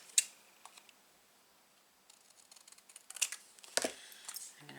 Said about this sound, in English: I'm going to snip that side down.